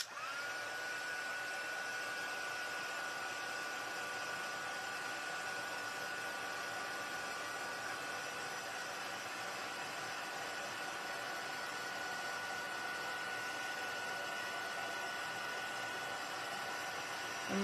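A heat tool blows steadily to melt metallic embossing powder on an embossing die, giving a constant airy whir with a faint high tone that runs unbroken throughout.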